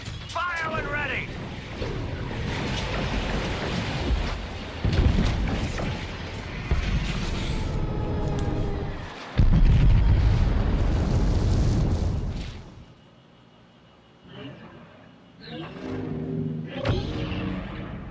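Artillery fire and explosions rumble through a Star Wars Battlefront II match on Geonosis, heavy booms and blasts layered with engine-like roars and game noise, with a deep impact near the middle before the din thins out.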